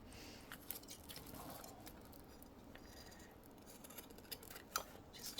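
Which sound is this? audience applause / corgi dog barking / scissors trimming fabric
scissors trimming fabric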